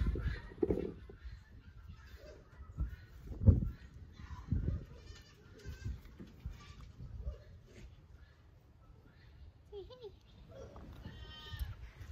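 Farm goats bleat several times in a barn during morning chores, loud calls close by over quieter background chatter and movement.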